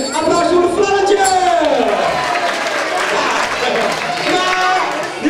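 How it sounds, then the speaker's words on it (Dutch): At a Sinterklaas event in Barthel, a crowd applauds: a dense, loud wash of clapping runs throughout, with a voice talking and singing over it. "Applaus voor de Flannetje!"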